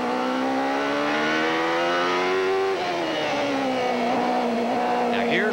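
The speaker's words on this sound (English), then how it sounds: "Listen to his throttle." A 1993 Indy car at the Portland Grand Prix, its engine holding a steady high-pitched drone on throttle in the same gear, then shifting tone midway, close and loud with no talk.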